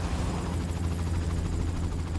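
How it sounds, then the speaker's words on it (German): Helicopter in The Amazing Spider-Man video game, a steady low rotor thrum with a pulsing chop and whining engine tone, continuous and moderately loud, with no voices. "ist ein Heli, einfach normal, aber können wir uns mal dranhängen."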